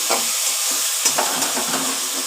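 Ground spices and tomato paste sauté in hot oil for boal fish kalia, sizzling loudly up close while a spatula stirs and scrapes the pan in short bursts, with no one talking.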